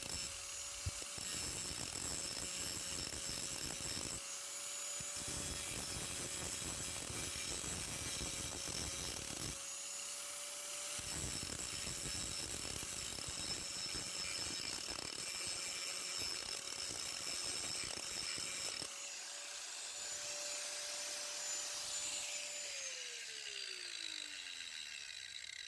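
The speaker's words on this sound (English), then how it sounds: "I then changed over to a grinding disc and just removed all these sharp edges." A Tilswall 860W angle grinder fitted with a grinding disc smooths the sharp edges of cut-off bolts, its loud, steady high whine under harsh scraping grind, briefly dipping as contact eases, then spinning down at the end.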